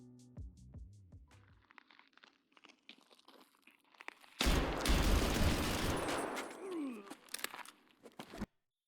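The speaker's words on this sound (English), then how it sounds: "That's when I hear gunshots through my headset" Rapid bursts of gunfire in Escape from Tarkov crackle loudly for several seconds, dense and chaotic, after quieter clicks and rumbling from the game.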